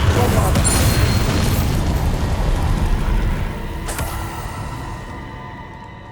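Bombarda explosion spell in Hogwarts Legacy on PS5: a loud booming blast with crackling debris that fades slowly over several seconds, heard alone without speech.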